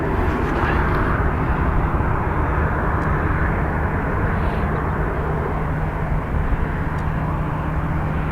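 ATR turboprop airliner taking off at Dublin Airport, a loud continuous roar and drone of propellers and engines, steady and close throughout with no talk.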